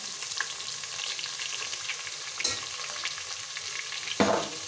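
Ginger garlic paste frying in hot oil with a steady sizzle, plus a few sharp stirring scrapes and clatters near the pan.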